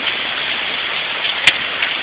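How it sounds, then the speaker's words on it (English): Rain falling outdoors, a steady hiss of drops across the whole stretch, with one brief sharp tap partway through and no talking. "fucking raining out here"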